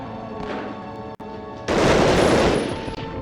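Bursts of video game gunfire crackle in a busy stretch, a softer patch of shots giving way to a loud, sustained volley of rapid firing near the end.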